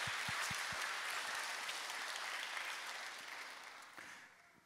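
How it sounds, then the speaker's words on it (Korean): A church congregation claps steadily in sustained applause during a Sunday service, loud at first and gradually fading toward the end. "박수 한번 다시 한번 주겠습니다"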